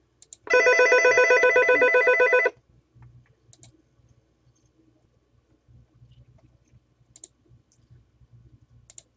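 An incoming call interrupts a math lecture on polar coordinates: a loud, close phone ringtone sounds for about two seconds, followed by quiet scattered clicks and faint rustling.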